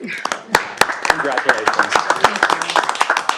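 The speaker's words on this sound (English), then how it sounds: "Yeah, we should clap." A small group claps in scattered bursts at a school board meeting for Martin County West Public Schools, with sharp, uneven hand claps mixed in with ongoing talk nearby.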